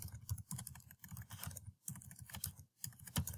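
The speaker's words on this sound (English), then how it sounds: "Oh, I can't type." Quick, uneven keystrokes on a computer keyboard, close and fairly quiet, typed in short bursts with brief pauses between them.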